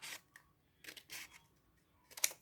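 Scissors cut printable junk journal paper in a few soft, close snips with short gaps between them, ending in one sharper crisp cut; quiet and with no voices.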